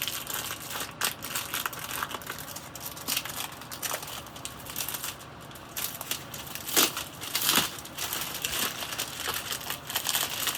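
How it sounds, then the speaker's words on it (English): A plastic protective bag is handled and crumpled up close during an unboxing, with continuous crinkling and crackling and a few sharper crunches throughout. "So it comes in the plastic bag, protective bag."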